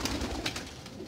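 A golden pigeon coos softly in low, rolling murmurs, fairly close, with no other sounds.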